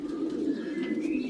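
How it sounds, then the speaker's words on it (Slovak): Homing pigeons coo in a steady, continuous, close-up murmur that rolls on without pause, with a thin higher call drifting faintly over it. "Ja chovám iba jedno plemeno holubov a to sú poštové holuby."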